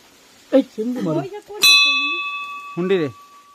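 A temple bell strikes once with a bright ringing tone that lingers and slowly decays, while people talk before and after it.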